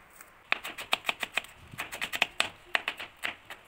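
A knife chops a large peeled onion finely on a board, quick crisp taps in a fast irregular rhythm, close and clear with no talk.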